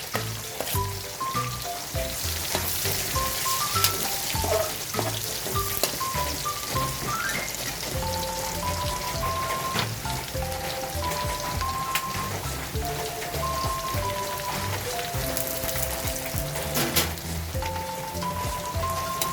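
Garlic and onion sautéing in oil left from frying tilapia, a dense continuous sizzle and crackle heard under steady background music.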